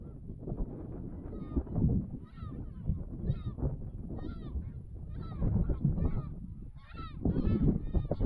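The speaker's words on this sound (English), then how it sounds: "An army of seagulls." A flock of seagulls calls overhead on a hillside ridge, with repeated harsh, honking cries overlapping in a steady, noisy stream against wind and ground noise.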